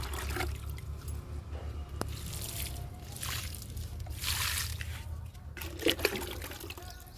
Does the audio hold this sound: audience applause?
no